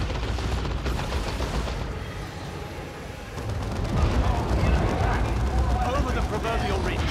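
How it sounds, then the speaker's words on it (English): Guardsmen squads firing their guns in the real-time strategy game Warhammer 40k Dawn of War II, a dense, continuous rattle of gunfire and blasts growing louder about halfway through, with a voice talking over it. "I would like all of my guardsmen to be firing"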